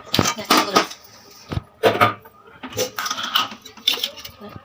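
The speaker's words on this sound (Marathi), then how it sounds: "कढई ठेवली" A metal kadhai wok set onto the stove for frying stuffed potato vadi, giving several loud, close metallic clanks and clatters in quick bursts with short pauses between.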